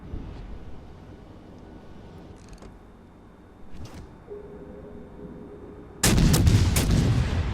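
Main guns of the Tier 7 Japanese cruiser Suzuya in World of Warships Legends let off a loud, sudden salvo of booming shots after quieter ambient game sounds and faint distant thuds.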